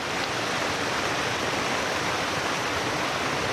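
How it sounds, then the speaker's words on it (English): Constant rushing splash of a small waterfall in the Fallingwater Cascades on the Blue Ridge Parkway, a steady broadband hiss heard close by with no voices. "here is another little waterfall."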